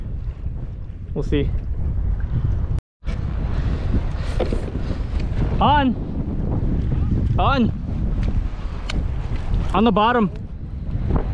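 Strong wind buffeting the microphone on a kayak at sea off Hawaii during deep-sea fishing, a loud, continuous rush with a brief dropout, while someone talks briefly and whistling tones sweep up and down.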